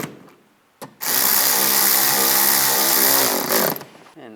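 A power tool whirs for about three seconds while driving panel screws on a 2004-2010 BMW X3, a loud steady buzz starting abruptly after a brief click and cutting off at the end.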